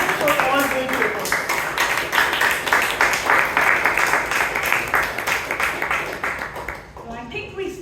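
Sustained clapping from the audience at a Bangalore Toastmasters club meeting rolls on for several seconds, then dies away as a voice picks up again.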